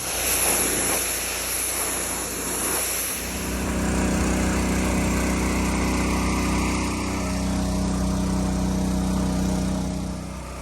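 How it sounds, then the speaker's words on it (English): A gas pressure washer runs steadily while cleaning an old Sea Ray 270 boat, its small engine droning loud and close with a shift in pitch partway through as the spray load changes. "I'm going to power wash it"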